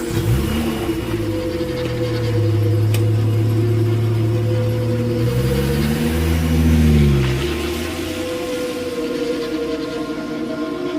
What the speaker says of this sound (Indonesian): Ku kendarai mobilku sangat kencang hingga akhirnya aku sampai di rumah.